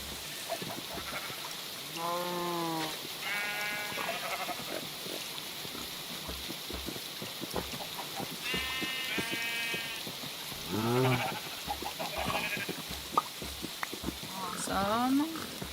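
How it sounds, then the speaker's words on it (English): Sheep in a Minecraft-style video game give several short, harmonic bleats scattered across the scene, mixed with game sounds while a player talks throughout. "Alright, let's gather our lost sheep."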